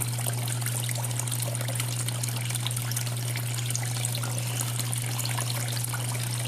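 Steady water trickling and washing over a Gold Hog prospecting mat on a Miller table in Uwharrie National Forest, a continuous close-up flow with a constant low hum underneath and no voices.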